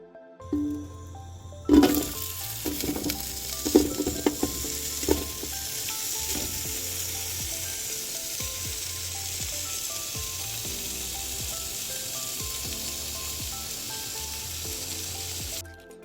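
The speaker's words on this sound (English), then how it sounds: "we're gonna put the sausage in and let the sausage brown" Smoked sausage browning in extra virgin olive oil in a pot, a loud continuous sizzle that swells after the pieces drop in, with early clatter and scraping, close and alone.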